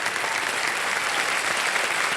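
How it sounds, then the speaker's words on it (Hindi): Studio audience applause on a Hindi quiz show set, a dense, steady wash of clapping that stays loud and even from start to finish with no talk over it. "तालियां बज जाए इनके लिए।"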